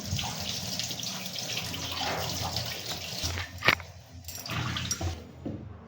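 Tap water runs steadily into a sink while radish and leafy greens are washed, a continuous close splashing rush with a few louder splashes and clatters before it trails off.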